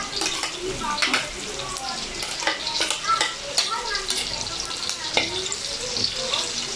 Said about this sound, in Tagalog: Hayaan lang natin yan magmantika, mag-brown, na parang chicharon.